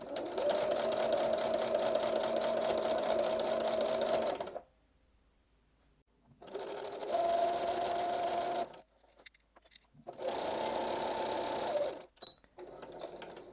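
A sewing machine runs in three steady bursts, stitching homespun fabric for a rag quilt, with quiet pauses between runs, close and clear with no talking.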